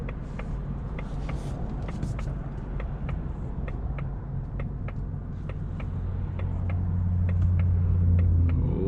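A 2024 Mustang GT 5.0 with a six-speed manual driving slowly through heavy evening traffic, a steady low engine rumble with road noise that swells slightly toward the end, plus regular faint clicking.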